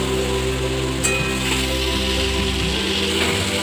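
Chopped tomato frying in a pan with five-spice, cumin powder, coriander powder, a bay leaf and ground paste, giving a steady, close, even sizzle throughout over a low hum, with no talking.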